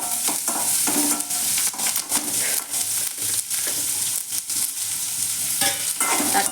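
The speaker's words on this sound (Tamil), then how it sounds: "கேரட் நல்லா வதக்கி விட்டுட்டு" Carrots sautéing in a pan, with a steady close sizzle and repeated scraping stir strokes running continuously throughout, no talk.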